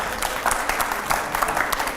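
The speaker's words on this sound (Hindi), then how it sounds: "तालियां नहीं रुकनी चाहिए" Steady, dense applause from a studio audience at a Hindi television rapid-fire interview segment, continuous and fairly loud throughout with no talking over it.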